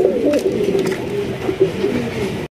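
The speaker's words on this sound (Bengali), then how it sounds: "একদম বড় সড়ো ঘিয়াচুল্লি কবুতর।" Large Ghiyachulli pigeons coo close by in low, throaty, rolling calls that overlap one another, with no speech.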